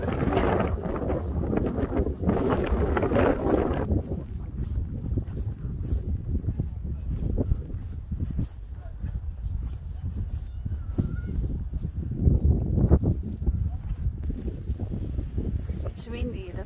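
Gusty wind buffeting the microphone in a snowy outdoor setting in the Netherlands, rumbling steadily throughout with stronger gusts near the start and end, while people talk underneath.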